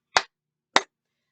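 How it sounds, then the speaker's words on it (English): Two crisp, isolated hand claps sound about half a second apart, each taking the place of a sung letter in a children's song about planet Earth, loud and close with silence around them. "we're going to replace it with a clap"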